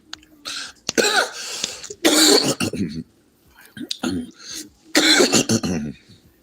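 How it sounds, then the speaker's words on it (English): A person coughs and clears their throat in several harsh, close bursts separated by short pauses, with bits of speech in between. "Why do you cough like that?"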